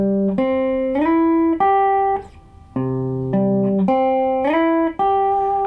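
Acoustic guitar picking a broken chord voicing that is played twice in a row, with clear plucked notes at a steady moderate rhythm, close and alone without any talking.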